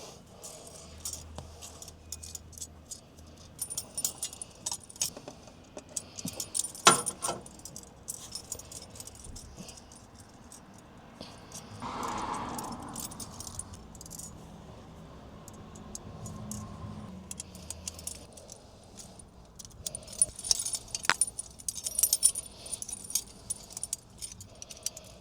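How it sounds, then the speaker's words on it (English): An extinguisher cage is fastened to its bracket with M5 nuts and bolts in a Holden HQ, HJ or HZ. Close, intermittent metallic clinks and jangles come in scattered bursts, with a quieter gap partway through. "we'll install the extinguisher cage onto the bracket using those M5 nuts and bolts"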